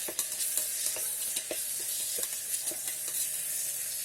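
Veggie pasta with tomatoes and vegetables is stirred in an electric kettle, a spoon scraping and knocking in irregular strokes over a soft, steady sizzle, close and fairly quiet.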